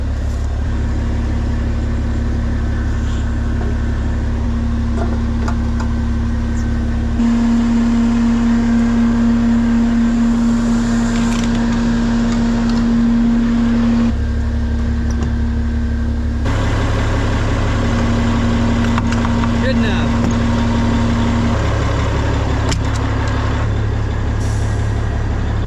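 A small diesel motor on a farm tanker truck runs steadily at idle for a long stretch, a loud constant low drone with a humming tone and occasional clanks and shifts in pitch.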